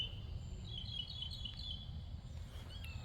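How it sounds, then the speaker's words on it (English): Birds chirp faintly outside a home garden in the evening after sunset, with thin scattered tweets over a steady low outdoor hum. "I don't know if y'all can hear these birds out here"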